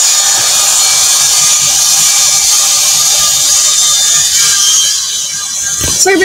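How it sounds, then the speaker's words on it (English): A power saw runs continuously close by, a loud, steady broadband whine and hiss that holds for several seconds before a brief sharp burst near the end. "sorry about the saw noise"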